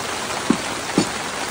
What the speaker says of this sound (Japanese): すごいな雨が。